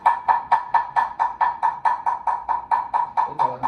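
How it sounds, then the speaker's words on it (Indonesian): A wooden kentongan slit drum is struck in the rapid, evenly spaced titir danger rhythm, about fifteen sharp, resonant hollow knocks in a steady stream, close and alone. "itu dalam keadaan bahaya namanya kentongan titir."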